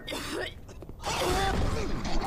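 Weapon reloading in the co-op zombie shooter Dead Air Versus: clicking, clacking mechanical sounds of a gun being reloaded in quick succession, fairly close, over busy game noise.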